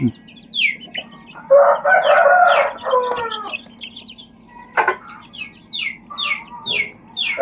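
Several native country hens clucking and squawking close by, with bursts of louder cackling and a rooster-like call, over a steady low hum.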